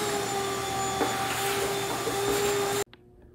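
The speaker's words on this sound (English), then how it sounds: "So go ahead and grab the vacuum and prep this for the final treatments." A vacuum cleaner whines loudly and steadily with a high tonal hum while cleaning the floor of a Dodge Ram pickup truck, then cuts off abruptly near the end, leaving a faint residual hum.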